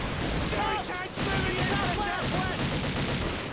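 Rapid bursts of rifle and machine-gun fire crackle through a World War II North African battle in Call of Duty 2, dense and loud with a brief lull, while someone talks over the shooting.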